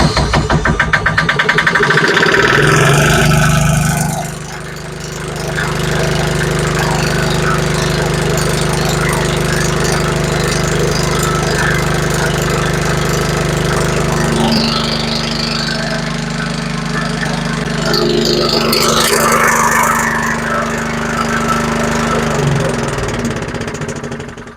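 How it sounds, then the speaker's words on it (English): A marine diesel generator with glow plugs aboard a boat cranks for a few seconds, then catches and settles into a loud, steady running drone close by, with a brief clatter partway through and no talk. "crank the generator"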